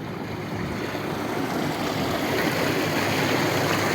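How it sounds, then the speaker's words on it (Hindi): Water gushes from a roughly 15-foot-deep well into a large pool on a desert farm in Pakistan, a steady, loud, broadband rush that swells slightly and never pauses, with no voices. "पानी आप देख सकते हैं कितना माशाल्लाह अच्छा पानी आ रहा है।"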